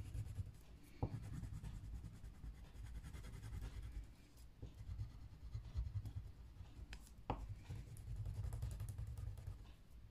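Crayon strokes scratch across paper in uneven bursts, a soft rasping scribble with a few sharper taps, set against a low rumbling background hum; no one talks.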